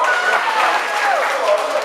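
An audience at a live music debut at a martini bar claps and cheers loudly for a couple of seconds, a dense wash of applause with shouts mixed in.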